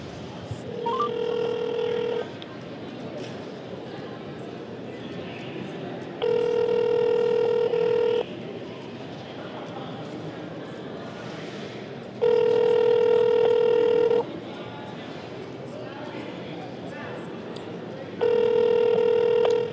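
An unanswered outgoing phone call rings out in long, steady tones about two seconds each, spaced roughly every six seconds, with quieter room noise and murmuring between rings.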